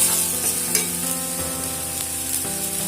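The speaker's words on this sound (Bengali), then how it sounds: "ভালো করে মশলার সঙ্গে মিশিয়ে নিচ্ছি।" Ground ghatkol paste being stirred into frying spices in a pan for a traditional rural Bengali dish, a steady close sizzle with scraping stirs throughout, no talk.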